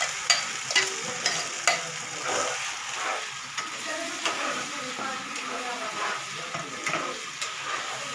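Fried onion and tomato puree sizzling in an oiled pan for biryani while a spoon stirs it, with repeated scraping strokes over a steady close fry and no talk.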